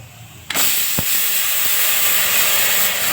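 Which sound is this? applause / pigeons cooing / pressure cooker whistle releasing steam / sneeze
pressure cooker whistle releasing steam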